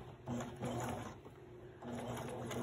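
A sewing machine stitches fabric ruffles, giving a quiet, fast, steady mechanical whir with short pauses between bursts of stitching. No one speaks over it.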